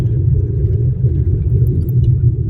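Deep, steady engine rumble from a car driving slowly, low and continuous at close range inside the vehicle, with no other sound.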